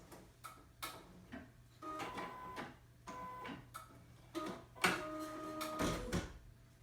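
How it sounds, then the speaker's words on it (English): A home embroidery machine stitches an appliqué, giving faint rhythmic mechanical ticking and whirring in short runs with small pauses, close and quiet with no talking. "just as soon as this color number 3 has finished stitching"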